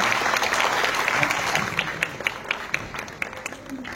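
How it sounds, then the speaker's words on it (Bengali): Loud applause from a crowd at a film premiere, dense overlapping clapping that thins into sharper individual claps toward the end, with faint voices underneath. "একটা জোরে হাততালি"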